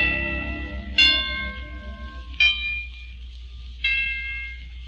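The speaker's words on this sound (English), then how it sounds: "And the chimes." Orchestral tubular chimes struck three times at even intervals, each bright metallic strike ringing out with a long sustained decay, played alone and fairly close.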